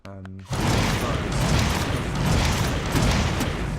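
A pump-action shotgun with a mounted hand grip fires incendiary rounds in a video game. A short tonal blip leads into a loud, sustained roar of dense, rapid firing that stays steady throughout.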